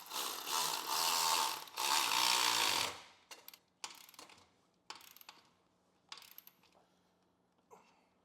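A clamp holding the muffler of a 2023 Harley-Davidson Road Glide exhaust is tightened, opening with a loud, sustained whirring power-tool run and followed by several short, sharp metallic clicks and taps with quiet pauses between.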